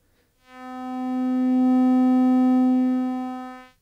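A Make Noise Strega synthesizer oscillator plays one sustained, buzzy harmonic-rich tone that swells in smoothly, holds steady for about three seconds and fades out, alone with no talking.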